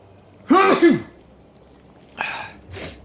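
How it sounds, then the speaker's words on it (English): A single close sneeze bursts out sharply, followed by quieter breathy throat sounds a moment later. "Oh, gonna sneeze."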